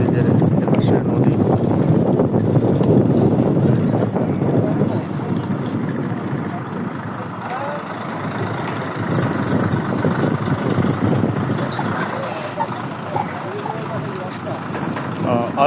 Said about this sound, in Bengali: আর মধ্যে আরেকটি নৌকা আমাদের মাঝে আসতেছে, দেখবো এখানে এই ঘাটে ভিড়বে।